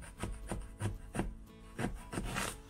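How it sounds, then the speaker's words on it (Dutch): A knife cuts a Belgian endive in two on a cutting board, making a series of soft, crisp, evenly spaced slicing crunches, faint and close. "in dit geval gaan we de witloof gewoon in twee snijden."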